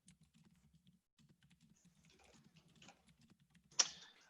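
Quiet, steady clicking of computer keys typed in a fast, irregular rhythm, ending with a sharper clack.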